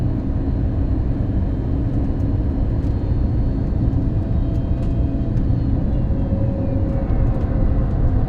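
IndiGo airliner landing at dusk, heard from inside the cabin as a loud, steady broadband rumble and roar of engines and airflow with faint whines, continuous throughout.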